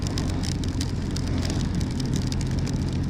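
Steady heavy rain pelts a motorbike rider on a wet Scottish road near Glen Shee, a dense continuous hiss of drops over a low engine and wind rumble, with no voices.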